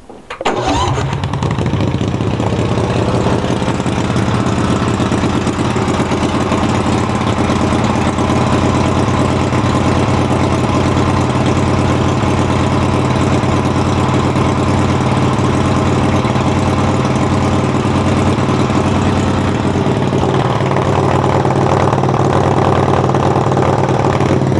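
A tuned mud utility vehicle engine starts and then idles in neutral, a loud, close, steady rumble with an even firing pulse that holds for over twenty seconds with no talk.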